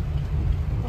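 Rain falls steadily during a night drive up the Anuskura ghat road, a dense continuous wash of drops close around a moving vehicle, with a low rumble underneath.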